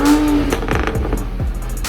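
A 2020 Toyota Supra engine revs in short, loud blips to clear soap from the tailpipes after a wash, close by with quick rises and falls in pitch.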